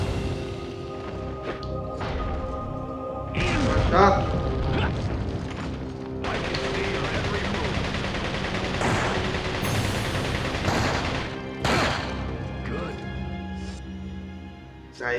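Gunshots and crashing impacts in the video game Resident Evil 4, a few sharp bangs and smashes scattered among thuds and game noise, fairly loud against a quieter background.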